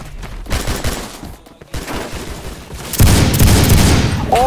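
Light machine gun fire in the Phantom Forces shooting game, heard as sustained rapid bursts that grow louder and denser toward the end, with a voice briefly audible.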